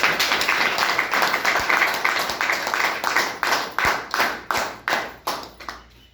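A crowd at a business gathering claps in unison for three leaders, loud rhythmic beats about twice per second, each clap sharp and decaying, slowing and thinning out toward the end.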